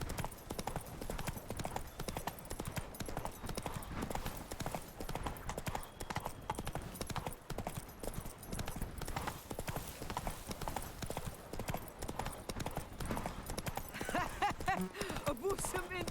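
Roach, Geralt's horse in The Witcher 3, trots with a steady, close clip-clop of hooves throughout, amid game ambience and occasional voices.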